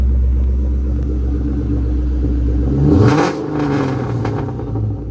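A 1999 Ford Cobra with a Kenne Bell supercharger idles with a deep, loud rumble, then revs sharply in one rising burst and settles back with a second smaller blip, close by.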